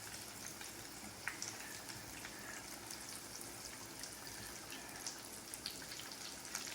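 Mozzarella sticks fry in hot oil, a faint, even bubbling hiss with occasional soft pops and crackles, continuous and unaccompanied by speech.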